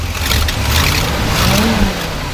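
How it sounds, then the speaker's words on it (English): A 1975 International Harvester engine is revved up a little, a loud, close rumble swelling into a rising roar that peaks briefly near the end before easing back. "Go ahead and rev it up a little bit."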